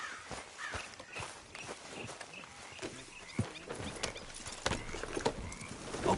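Horse hooves clop at a walking pace in a video game, with a neigh and other faint outdoor sounds around them. No voices are heard.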